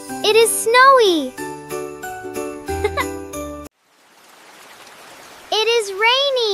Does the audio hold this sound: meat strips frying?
no